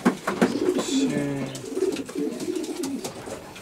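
Racing pigeons at a Romanian club loft in Floresti, Prahova, cooing in low repeated throaty calls close by, with a few brief wing flutters and a short word spoken at the start.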